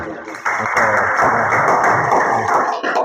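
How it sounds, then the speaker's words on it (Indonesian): A classroom of students applauds during a school project lesson, a dense burst of clapping that starts abruptly and holds loud and close for a few seconds before trailing off. "Ya, tepuk tangannya."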